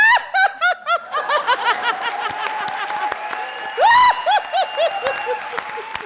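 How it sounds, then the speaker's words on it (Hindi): Studio audience at a comedy show bursts into giggles and snickering laughter with a stretch of applause in between, loud and close, with bright repeated laughs rising at the start and again near the end. "जोरदार तालियां।"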